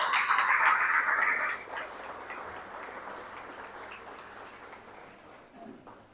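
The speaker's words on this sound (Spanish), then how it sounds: "Por favor, denle un aplauso al Señor." A church congregation breaks into applause during a sermon, a dense burst of many hands clapping that fades after a couple of seconds into a thinner, fading patter.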